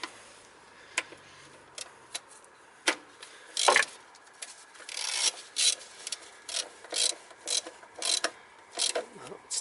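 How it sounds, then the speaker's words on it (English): A wrench tightens throttle body bolts on a 2000–2010 Toyota Corolla, giving repeated close, crisp ratcheting clicks and short scraping bursts in an irregular rhythm over quiet background. "I need to fasten these bolts using my wrench."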